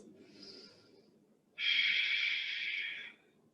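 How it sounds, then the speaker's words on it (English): Deep breathing during a yoga stretch: a soft inhale followed by a long, loud, airy exhale close to the listener, with no talking. "A few more deep breaths"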